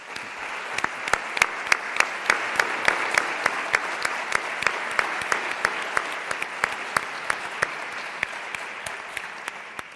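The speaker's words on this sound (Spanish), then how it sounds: "os pido un aplauso para él y para todo su equipo" Sustained audience applause at a conference opening session, a dense, steady roar of many hands with sharper individual claps popping out near the microphone, lasting the full ten seconds with no talking.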